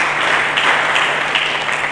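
A church congregation claps for Jesus Christ during a sermon, a loud, continuous wash of many hands at close range, steady throughout with no voices on top.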